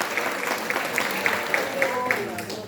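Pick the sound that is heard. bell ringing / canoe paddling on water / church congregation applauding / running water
church congregation applauding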